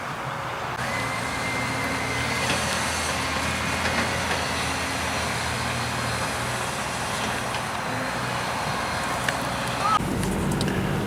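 A lorry rumbles past near a solar farm construction site in Gloucestershire, a steady low engine drone with wind noise that holds throughout and ends with an abrupt change.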